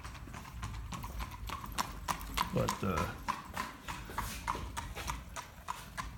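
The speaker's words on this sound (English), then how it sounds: "don't mind the horse and buggy in the background." Horse hooves clip-clop steadily from a passing horse and buggy, a bit distant behind someone speaking outdoors near a garage, with an occasional faint whinny.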